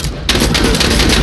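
Rapid shotgun blasts in the video game MENACE, a loud close burst of overlapping gunfire that starts abruptly after a brief quiet moment and continues densely to the end.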